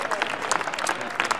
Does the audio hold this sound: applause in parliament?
yes